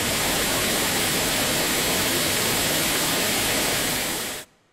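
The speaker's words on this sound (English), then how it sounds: "Here I have done an example, a simple waterfall sound effect" AI-generated rushing waterfall, a dense, steady roar of falling water that holds constant and then cuts off abruptly near the end.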